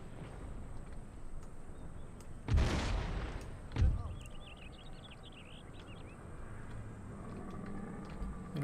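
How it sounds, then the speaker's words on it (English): Organ guns firing in a Total War: Empire battle as the Ottoman Empire, two loud booming volleys over a constant battlefield din, with faint distant crackle and clatter between them. "Them organ guns are ridiculous though."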